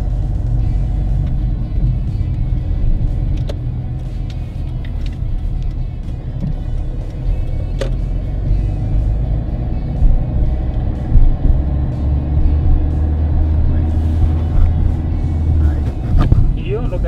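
Car engine during a driving lesson in Alcorcón, a low steady rumble heard from inside the cabin for the whole stretch, with quiet talk and small clicks and knocks over it.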